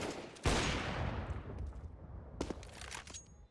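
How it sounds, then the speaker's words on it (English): A loud rifle shot in a competitive Counter-Strike match, followed by a tail of echo and a few quieter shots and clatter later, with no talking. "Good shot from Woxic"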